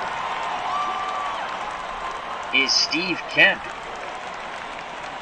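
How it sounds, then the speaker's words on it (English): Simulated crowd applause in the baseball video game OOTP19 swells briefly for the Tigers fans at a 1978-era Brewers vs Tigers matchup, sitting low under a play-by-play announcer's voice. "Tigers fans applaud Kemp's effort in left."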